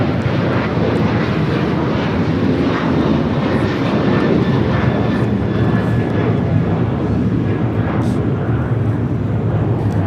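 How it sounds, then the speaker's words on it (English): An Alaska Airlines Boeing 737-900ER takes off at LAX, a loud sustained jet roar with a rumbling low end that stays strong and steady for the whole stretch. "That is Alaska Airlines 1355 taking off to Portland on the 737-900 ER."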